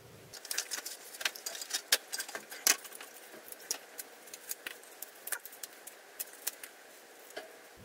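A piece of a cardboard model airplane being cut off, heard as a run of sharp irregular snips and crunches close by, quiet in between, with no voices.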